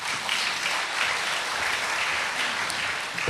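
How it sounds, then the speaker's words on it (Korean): A conference audience claps steadily to welcome a speaker, a dense, even wash of applause from many hands that carries through the whole moment with no voices. "박수로 맞겠습니다."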